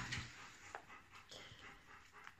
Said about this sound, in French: j'ai ma chienne qui a chaud.